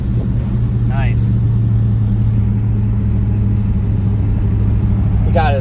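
An LQ4 V8 engine-swapped Firebird Trans Am rumbles along on the road in a steady, loud low drone throughout, with a brief rising throttle note near the end.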